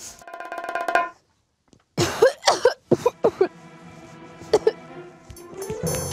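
A boy gives several harsh coughs in quick bursts, close by, with pauses between, amid a muffled background of speech or music.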